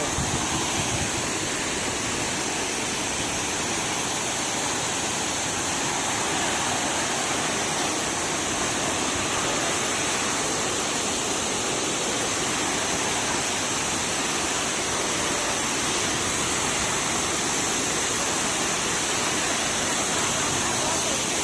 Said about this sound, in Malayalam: അപ്പോൾ ഇതാണ് പുന്നയാർ വാട്ടർഫോൾസിൻ്റെ ഏറ്റവും അടുത്തുനിന്നുള്ള ദൃശ്യം. നന്നായിട്ട് വെള്ളം തെറിക്കുന്നുണ്ട്.